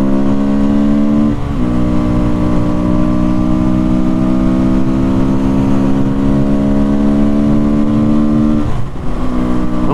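An SWM RS300R motorcycle rides along a road, its engine holding a steady droning note with harmonic bands that drop briefly near the start and again near the end as the rider shifts, with wind rush throughout.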